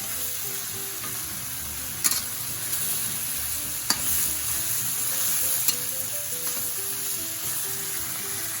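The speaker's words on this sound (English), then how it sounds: "I just want to brown the chicken a little bit." Chicken pieces sizzle and fry in a wok for Taiwanese three cup chicken, a steady close crackle broken by occasional sharp clinks of a utensil against the pan.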